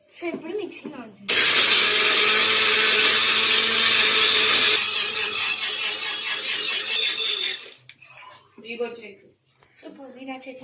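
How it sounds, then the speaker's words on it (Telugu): A mixer grinder loudly whirs for about six seconds, blending mint chutney, then stops; brief voices come just before and after the run. "సో ఇప్పుడు మిక్సీ నానుతుంది"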